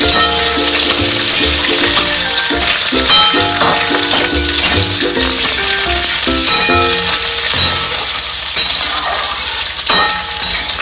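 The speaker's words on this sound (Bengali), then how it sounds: "সবজিগুলো দিয়ে একটু সটে করে নেবো" Vegetables sauté in a pan for a chicken and coconut stew, giving a loud continuous sizzle broken by utensil stirring and occasional light clinks, with no talking.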